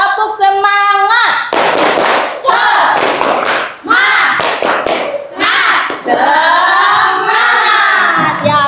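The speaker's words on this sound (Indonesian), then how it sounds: "bagaimana kalau kita melakukan tepuk semangat dulu?" Schoolchildren in a classroom perform a clapping chant, with loud rhythmic group claps alternating with children's voices shouting and singing along, close and energetic throughout.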